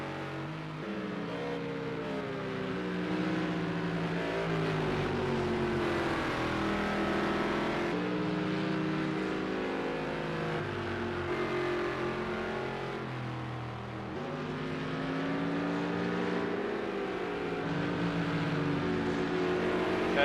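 A GT3 race car engine in a racing game drones and revs steadily as the car pulls out of the pits at Circuit of the Americas, its tone rising and falling through gear changes, loud and close with no talking.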